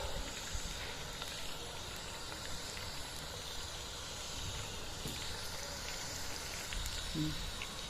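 Garlic chicken kebab pieces frying in hot oil, a steady soft hiss and sizzle continuing evenly throughout with faint occasional pops and no talking.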